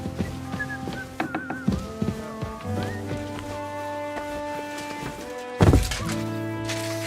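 A melodic human whistle in Kingdom Come Deliverance II, a clear wavering tune carried over a steady game soundscape with occasional thunks and a sharper hit near the end.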